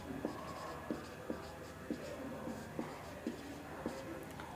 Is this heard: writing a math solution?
yes